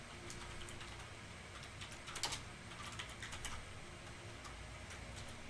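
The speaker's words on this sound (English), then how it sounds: "I'm really glad you can't see what I'm typing, because I'm terrible." Keys typed on a computer keyboard, a quiet, steady patter of light clicks with a denser burst in the middle, close and alone.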